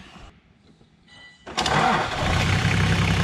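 A Toyota Landcruiser 105 series with a 1HZ turbo diesel engine and brand new injectors cranks briefly, then catches and settles into a loud, steady clattering run, heard close up without talk.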